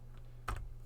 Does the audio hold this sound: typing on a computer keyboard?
yes